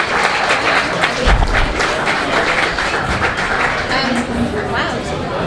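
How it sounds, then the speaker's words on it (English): Audience at a film festival award ceremony applauds an actress receiving an award, a loud, dense run of clapping with crowd noise and some cheering mixed in, steady throughout with voices audible under it. "Please give her a huge round of applause, Charisma Carpenter."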